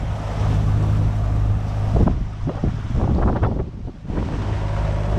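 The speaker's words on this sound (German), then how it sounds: "Die ersten Böen kommen." Strong wind gusts buffet a sailboat at sea off Mexico near Acapulco, loud roaring wind noise against the microphone over rushing water and waves, continuous with surging peaks.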